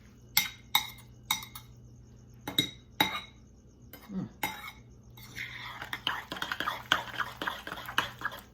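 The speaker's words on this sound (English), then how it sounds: "I'm gonna stir that up and set it aside." A utensil stirs a seasoned mixture in a bowl for an eggplant and smoked gouda sandwich, starting with sharp metallic clinks and taps against the bowl, then turning into a busier scraping swirl, with faint voice in the background.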